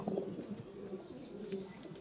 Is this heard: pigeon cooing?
yes